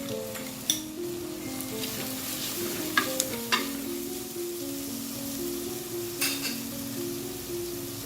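Onions and chopped garlic sauté in oil for Indian-style dried anchovy claypot rice, a close, steady sizzle with occasional sharp spatters and utensil clicks, with a low background hum and no talking.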